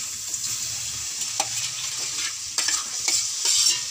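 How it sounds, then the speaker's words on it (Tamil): Marinated chicken pieces coated in turmeric and ginger-garlic paste sizzle and fry in a pan while being stirred, a steady hiss broken by scraping clatters of the spoon. "அதை இது கூட ஆட் பண்ணி நல்லா மிக்ஸ் பண்ணி விட்டுக்கோங்க, வதக்கிக்கோங்க."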